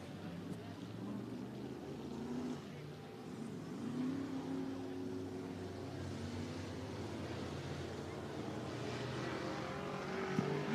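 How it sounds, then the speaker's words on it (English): Race cars run around the dirt oval at Cottage Grove Speedway in Oregon during a heat race, producing a continuous distant engine roar with rising and falling revs, under faint commentary. "Jason Cox back on the loud pedal as they works their way down into 1 and 2."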